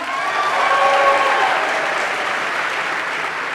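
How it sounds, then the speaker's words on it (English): Live audience at an Ignite Seattle talk event applauding in response to a show-of-hands question, a steady dense wash of clapping with some voices mixed in, fairly loud and continuous throughout. "clap if you are a dog person"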